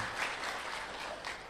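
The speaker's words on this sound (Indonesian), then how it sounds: "Gak usah tepuk tangan karena belum selesai" A brief patter of audience clapping during a religious lecture, moderately quiet and continuous, with no speech over it.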